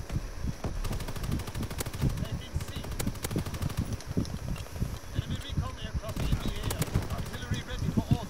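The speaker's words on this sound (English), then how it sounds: "More artillery." Dense video-game battlefield gunfire with rapid bursts and booming artillery-style impacts, sustained and loud throughout under the noise of combat.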